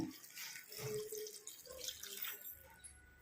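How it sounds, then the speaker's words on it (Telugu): Water runs and trickles briefly into a pan of French bean curry, with small drips and splashes close by, as if a small glass of water is poured in. "ఇప్పుడైతే కొంచెం వాటర్ వేసుకుందాం"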